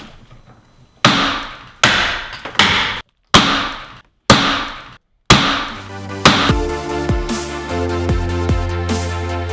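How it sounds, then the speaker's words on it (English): A hammer strikes hard during a kitchen renovation: about six sharp, loud, evenly spaced blows ring out, then quicker strikes blur into lingering metallic ringing tones. "Boy, can he swing a hammer."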